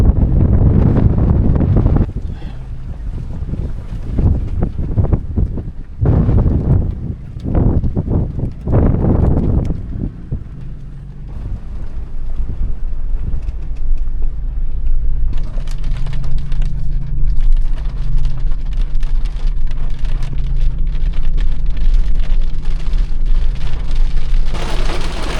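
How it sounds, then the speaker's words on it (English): Strong wind roars against an overland vehicle off-roading near the Grand Canyon and Sedona, buffeting the microphone in heavy gusts, then settles into a steady hiss of heavy rain drumming on the vehicle, loud and continuous throughout. "Oh yeah, the rain is coming in. The wind is starting to blow really hard."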